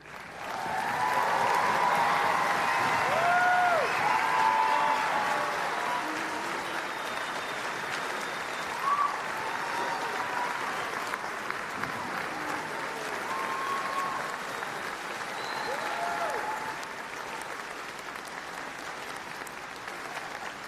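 Sustained audience applause fills a hall at a College of Education event after a speaker finishes, steady and full-bodied throughout with a few faint voices and whoops, easing slightly toward the end.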